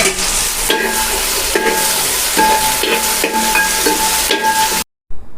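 Onions frying in a pan for a tapioca puttu meal give a loud, steady broadband sizzle, broken by several stirring scrapes at regular intervals, with no talk, before a sudden cut to silence near the end.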